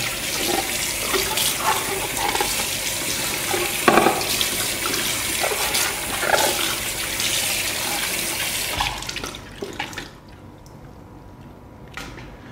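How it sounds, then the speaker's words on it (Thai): Tap water runs steadily as parts of a Hurom H100 juicer are rinsed under it, a close, continuous splashing rush that cuts off near the end, leaving faint drips and quiet room sound. "เพียงแค่เราเปิดน้ำไหลผ่านนะครับ"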